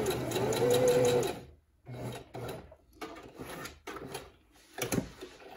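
A sewing machine stitches leotard fabric in a fast, even whirring burst, then stops; quieter rustling and handling of the fabric follows in short bursts.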